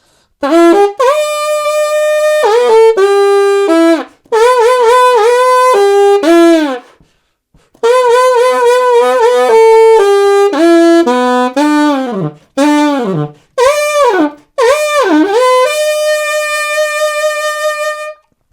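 An alto saxophone plays the solo from a song alone, with bright, loud melodic phrases separated by short breaths and ending on a long held note.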